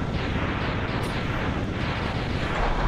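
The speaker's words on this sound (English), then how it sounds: "Wow, such explosion." A Mega Man X video game explosion, a loud, sustained, broadband rumbling blast that roars steadily throughout without letup.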